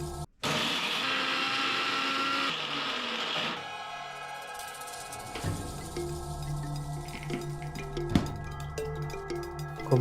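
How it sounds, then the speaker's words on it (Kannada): A kitchen mixer grinder runs loud and whining, grinding dried coconut with two cardamom pods and sugar, then slows, and the tone shifts to a lower rumbling spin with rattles and a sharp knock near the end. "ಇದನ್ನು ಮಿಕ್ಸರ್ ಒಳಗಡೆ ಹಾಕಿ ಮಿಕ್ಸ್ ಮಾಡ್ಕೊಂಡ್ಮೇಲೆ"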